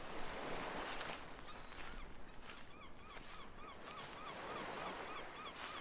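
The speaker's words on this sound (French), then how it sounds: "Des mouettes chantent au loin." Seagulls call faintly in the distance over soft outdoor ambience in the Irish countryside, their short, repeated cries rising and falling through a quiet background.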